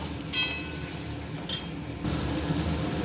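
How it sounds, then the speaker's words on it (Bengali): Potatoes frying in hot oil in a wok (kadai) for a Bengali jackfruit and prawn dish: a steady, hissing sizzle throughout, with two sharp clinks of a utensil early on and a louder surge of crackling near the end. "আলুগুলো লাল করে ভেজে নেব"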